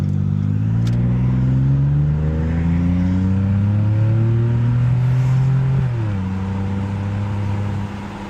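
A 2009 Ford Escape with a muffler delete accelerating on a 45 mph road, heard from inside as a loud raspy engine drone rising steadily in pitch, dropping at a gear shift and climbing again, with no talk.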